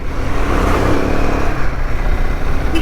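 A heavy lorry rumbles past close by on a mountain road, its engine droning loud and steady over the road noise.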